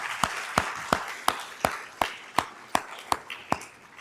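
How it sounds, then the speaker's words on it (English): Slow, evenly spaced claps at a sponsor thank-you during a leadership talk at Gannon University, about ten sharp hits, each ringing briefly over a soft wash of scattered clapping from the audience. "let's give them a round of applause"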